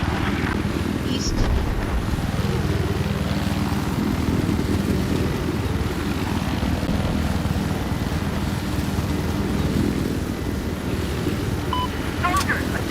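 A helicopter in the Battlefield 4 video game flies with a loud, steady rotor and engine roar that continues throughout, mixed with game sounds and a player talking over it.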